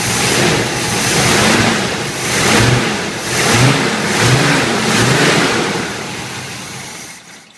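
A cold Chevrolet Blazer engine revs up and down in repeated surges, loud and close, its pitch climbing and falling with each blip before cutting off abruptly.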